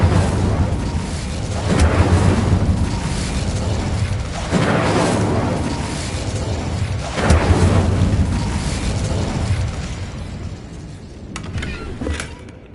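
The Incendio fire spell cast repeatedly in the game Hogwarts Legacy, producing loud, close, deep whooshing bursts of flame roughly every few seconds over a rumbling low background, with a few sharper clicks near the end.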